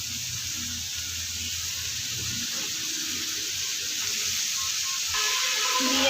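Banana stem is added to fried shrimp in a pan, a soft, fairly faint sizzle that shifts with a few muted stirring sounds and rises slightly toward the end.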